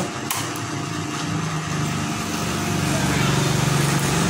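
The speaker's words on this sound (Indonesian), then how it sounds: "kita bantu menggunakan charging untuk menyalakan double starter" A motorcycle's electric starter cranks with charger assistance, a steady mechanical whirring drone that grows slightly louder and holds throughout, the engine struggling and not catching; a non-original part is suspected.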